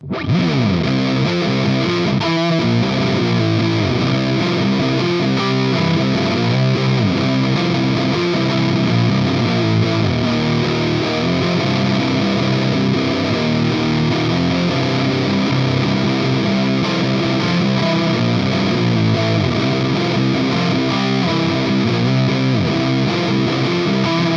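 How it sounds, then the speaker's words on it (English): A heavily distorted electric guitar through a 5150 amp with pedal-board reverb plays thick, sustained fuzzy chords with a reverberant wash, loud and continuous throughout with no voices. "Let's now build out something into a big, thick distortion"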